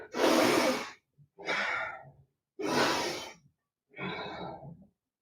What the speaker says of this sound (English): So we'll inhale, exhale.